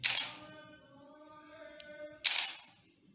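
Canon EOS 60D DSLR shutter firing on a slow exposure: a sharp, close mechanical click opens the shutter, a faint hum holds for about two seconds, then a second crisp click closes it.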